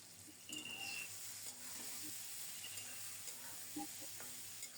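Spice paste with onion and garlic, meant for a loitta shutki curry, fries in hot oil. It makes a soft, steady sizzle with occasional light scrapes as it is stirred, fairly quiet and without any talking.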